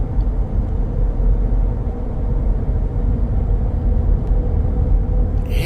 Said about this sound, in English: I can hear just a little bit of tire noise.